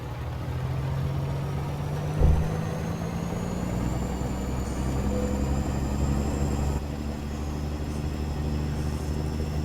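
A Freightliner FL86 truck hauling a Timpte hopper trailer in a trucking video game drones steadily while driving, with a low engine hum and a faint rising whine throughout and one brief thump early on.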